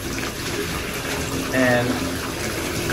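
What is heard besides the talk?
water running from a tap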